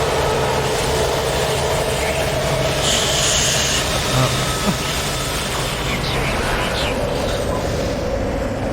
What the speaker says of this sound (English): Is that the train?